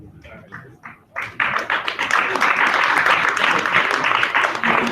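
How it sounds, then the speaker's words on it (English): After a brief spoken line, an audience at a Boston public talk erupts into loud, sustained clapping that continues steadily to the end, with some cheering mixed in. "You don't need to clap."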